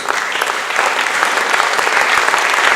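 A banquet crowd applauds the standing track team at an athletic awards banquet with a full, continuous roll of clapping that holds steady and slightly swells toward the end.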